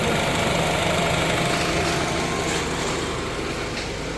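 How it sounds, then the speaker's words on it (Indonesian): A Honda Freed engine idles smoothly and steadily, with a faint fine ticking of the injectors woven into the even hum; no talking. "Suara mesin sangat halus, hanya terdengar suara injektor saja."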